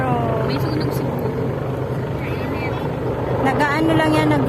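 Continuous rotor drone from a helicopter flying over a paddled boat near an airport, steady and fairly loud, with people chatting over the noise.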